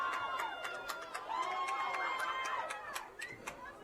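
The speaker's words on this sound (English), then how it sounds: "applause here of the fans below us on the Eastmont side of Wildcat Stadium" Fans at a high school boys' soccer match at Wildcat Stadium clap and cheer from the stands below, a steady crowd noise with a commentator talking over it.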